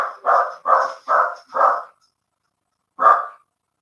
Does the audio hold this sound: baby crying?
no